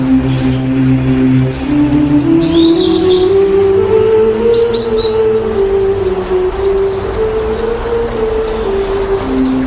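Birds sing in a forest of oak, birch, hazel and holly in the Fragas do Eume, with scattered high chirps and tweets over a steady low drone.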